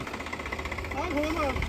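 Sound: tractor engine idling, Swaraj 855 or Mahindra 585

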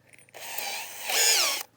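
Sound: Dewalt DCD805N cordless brushless hammer drill drilling concrete

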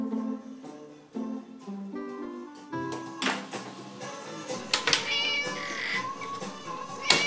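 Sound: cats meowing while hungry

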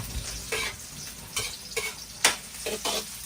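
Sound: chicken frying in a pan

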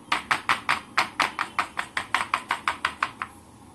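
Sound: tapping chocolate mould to settle chocolate for modak

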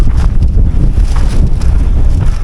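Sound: strong wind

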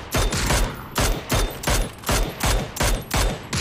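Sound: gunshots in the video game PUBG

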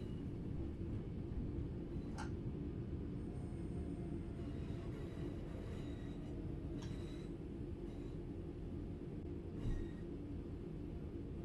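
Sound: train running in Train Sim World 4 video game

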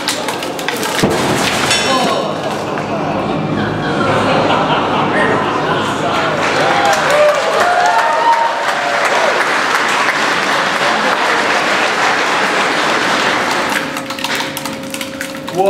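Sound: audience applause

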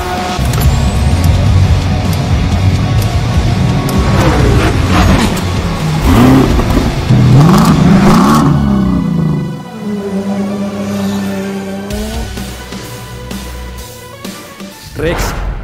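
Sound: Porsche race car accelerating and roaring

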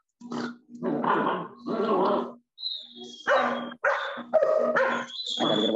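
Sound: dogs barking and growling

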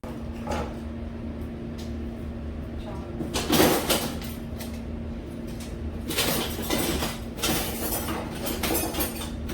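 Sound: spoons being packed into kitchen boxes

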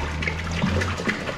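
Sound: water being poured into a drum for a pond

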